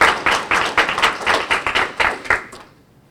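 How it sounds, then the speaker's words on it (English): A small audience applauding at a library program, a few close, distinct hand claps in an uneven rhythm that stop abruptly and leave a quiet room. "You deserve a round of applause."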